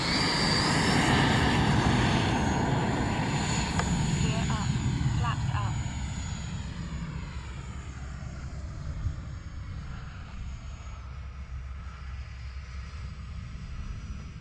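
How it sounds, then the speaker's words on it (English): A Freewing Yak-130 RC model jet flies on a calm day, its engine whine strong at first and then fading into a steady distant drone. "Good flying little jet."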